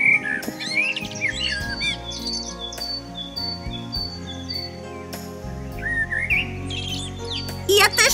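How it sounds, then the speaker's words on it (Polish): Birds sing and chirp in bright, whistling phrases over a soft musical backdrop, some calls rising near the start and again toward the end of the passage. "Ptaki zaczynają śpiewać!"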